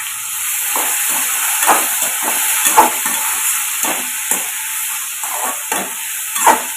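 Bottle gourd sautéing with salt in a pan, a continuous sizzle under repeated scraping strokes of a spatula every half second or so, close and fairly loud, no talk.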